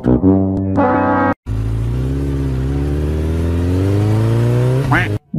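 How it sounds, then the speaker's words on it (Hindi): A cartoon motorbike engine revs loudly and close, with a sustained buzzing drone that rises in pitch, bracketed by brief sputters at the start and end. "देख मोनू मेरी नई बाइक कितनी मस्त है ना।"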